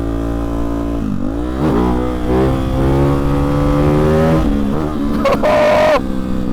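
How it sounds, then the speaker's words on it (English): A Hyper 698 motorcycle with a titanium exhaust revs hard near the listener, climbing through repeated sharp pulls and bouncing off the rev limiter in loud, stuttering bursts. "Getting that rev limiter up in there."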